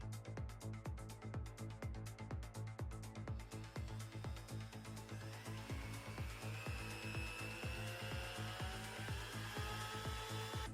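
A Robot Coupe Micromix professional immersion blender runs idle, its small electric motor whirring steadily at a constant pitch with a rapid repeated ticking running through it, close and fairly loud, with no talking.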